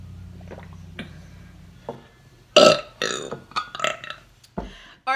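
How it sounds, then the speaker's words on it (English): A person belches repeatedly after eating: a series of close, loud burps of varying length, separated by short pauses, with no talking over them. "Ain't nothing like a good belch when you get done eating."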